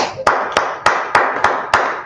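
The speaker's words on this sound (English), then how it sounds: "Let's clap it up for the Lord." Rhythmic hand clapping, six sharp, evenly spaced claps at a brisk steady beat, close and loud, during a religious talk.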